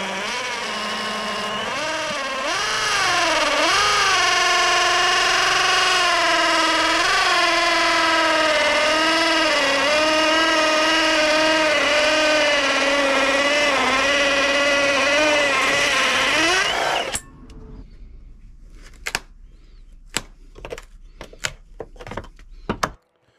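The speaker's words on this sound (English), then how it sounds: "I'll drill the pilot hole first in the middle of that hole you see up there." A loud, steady power drill whines for a long stretch drilling a pilot hole during an electrical service upgrade, pitch wavering as it bites, then cuts off, followed by scattered clicks and knocks.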